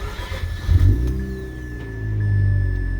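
A cold Mazda RX-8 rotary engine cranks and fires up nearby, settling into a steady, loud idle rumble with a brief surge as it catches.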